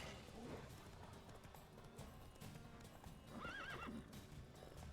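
A horse gallops in the video game Witcher 3, with quick repeated hoofbeat clip-clops and a whinny partway through, quiet and steady with low game sounds and a faint voice around it.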